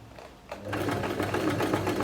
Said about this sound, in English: I'm just sewing it very, very small by the edge,